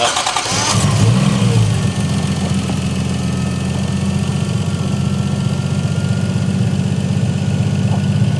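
A Toyota 1JZ engine in a Nissan 240sx S14 cranks briefly, fires up loudly, and settles into a steady, close, throbbing idle.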